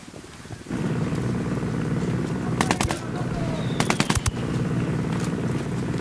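Two short bursts of rapid automatic gunfire crack out in a Ghost Recon Wildlands shootout, over a steady droning game ambience.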